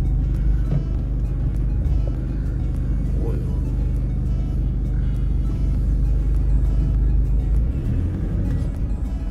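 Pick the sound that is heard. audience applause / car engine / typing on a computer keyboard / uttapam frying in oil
car engine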